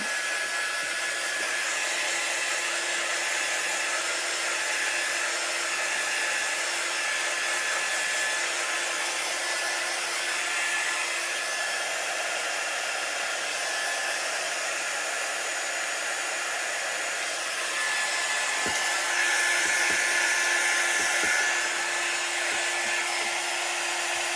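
A hand-held dryer blowing steadily to dry chalk paste on a craft piece: a continuous, loud, even whirring hum that keeps going without a break, with a slight shift in tone near the end and no talk.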